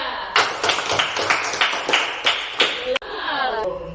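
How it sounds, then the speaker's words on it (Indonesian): A classroom of pupils claps for group 3 in a slow, loud, roughly unison rhythm of about a dozen beats, with a sharp knock near the end and a voice speaking over the last moments. "kita berikan tepuk tangan untuk kelompok 3"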